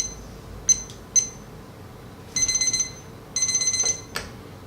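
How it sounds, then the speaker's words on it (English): A kitchen timer goes off after coffee steeps in a French press, giving two short beeps and then two rapid bursts of repeated electronic beeping, close and clear over a quiet room. "I have a timer here that needs to sit for 4 minutes."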